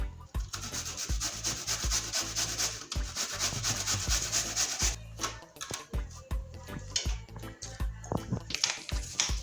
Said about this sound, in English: I'm gonna grate the green banana.